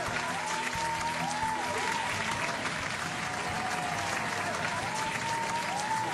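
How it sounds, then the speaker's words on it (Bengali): Dense applause fills a concert hall after a song, steady and loud for the whole stretch with a crowd murmur beneath, while faint melodic tones drift over the clapping. "গান শেষ হয়ে যাওয়ার পরে পুরো হল তালির শব্দে কাঁপতে লাগলো।"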